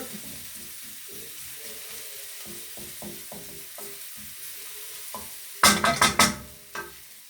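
Morteau sausages and onions stirred in a pan: soft scraping and low sizzle build to a loud cluster of sharp scrapes and clatter near the end, close and without voices.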